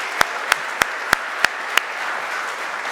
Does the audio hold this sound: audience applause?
yes